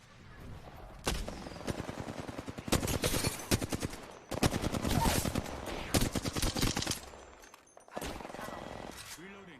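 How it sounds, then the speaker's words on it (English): Rapid bursts of automatic gunfire from the Apex Legends video game, loud and close, firing in several dense rattling volleys separated by brief pauses, with a short quieter stretch near the end. "Opening fire."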